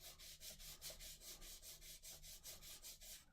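A small wooden model rocket fin for an Estes Yankee rubbed back and forth on sandpaper at a 45-degree angle to bevel the edge, giving steady rhythmic scratchy strokes, about four per second, faint and close with no voices.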